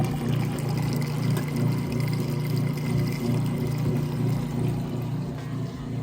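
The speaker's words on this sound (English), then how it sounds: "You can hear it draining that water out nice and fast" A Kenmore direct drive washing machine in a neutral drain cycle pumps its water out fast, a steady low motor hum with a continuous rushing of water that holds even and close throughout.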